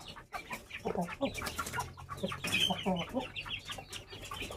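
A hen and her chicks cluck and cheep near a nest among stones, a busy, continuous mix of soft clucks and high peeps close by.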